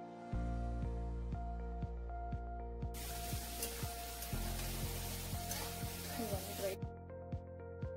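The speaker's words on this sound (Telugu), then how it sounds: "సో ఈ 5 ఆనియన్స్ మనం ఈ షేప్లో కట్ చేసుకొని మళ్ళీ ఆ కళాయిలోనే వేసుకొని ఫ్రై చేసుకోవాలి." Chopped onions dropped into hot oil in a kadai, a burst of loud sizzling for about four seconds over steady background music with a rhythmic beat.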